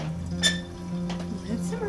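Elderberries simmering in a pot are stirred and mashed, with a few light clinks and scrapes of a utensil against the pot over a steady low background hum.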